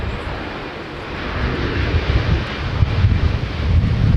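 A Delta Airbus A321 lands at Minneapolis–St. Paul airport in a gusty crosswind, a loud, steady jet roar blended with heavy wind buffeting on the microphone that swells toward the end.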